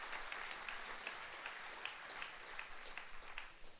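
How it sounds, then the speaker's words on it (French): Thin, scattered audience clapping in a hall, quiet and somewhat distant, with individual claps standing out over a soft background. "Merci de vos applaudissements."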